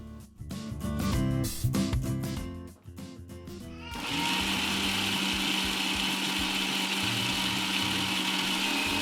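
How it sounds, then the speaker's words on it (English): A blender whirs tahini sauce with salt as a steady, loud, continuous motor hum, preceded by a few seconds of choppier mechanical rattling. "Add quarter teaspoon of salt and continue blending for few seconds"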